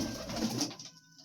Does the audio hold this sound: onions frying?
no